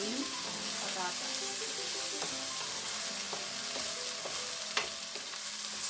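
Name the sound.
corned beef and potatoes being stirred together in a pan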